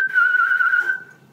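A person whistles a steady, sustained single note, imitating a whistle while pretending a stick is one; the tone is clear, close and alone, fading slightly at the end.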